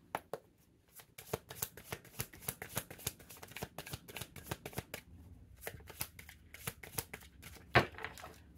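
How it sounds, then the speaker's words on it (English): A deck of tarot cards shuffled by hand, a run of crisp riffling snaps and slaps in an uneven rhythm, close and fairly quiet, with one louder slap near the end. "These cards are so hard to shuffle."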